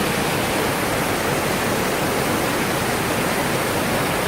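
A waterfall near Lake Bachalpsee above Grindelwald in the Swiss Alps gives off a steady, dense, hissing rush of falling water, unbroken and fairly loud throughout with no voices.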